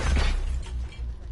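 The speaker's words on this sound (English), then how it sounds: "Throwing cluster grenade." A cluster grenade goes off in Call of Duty, a short shattering, bursting blast with a crackling, breaking tail that stays loud across the moment.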